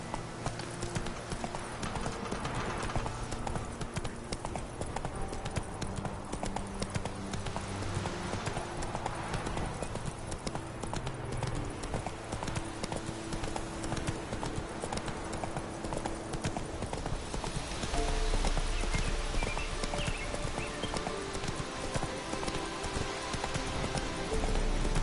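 Roach, a horse in The Witcher 3, gallops with rapid, continuous clip-clopping hooves. A steady wash of rain and ambient game audio fills the background, and the hooves grow slightly louder near the end.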